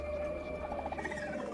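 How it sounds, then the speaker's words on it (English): Wolf-like alien creatures in the sci-fi action game Metroid Prime 4: Beyond give a wavering, pulsing cry that rises and trembles over a steady droning ambience, fairly loud and alone. "There's wolves in here."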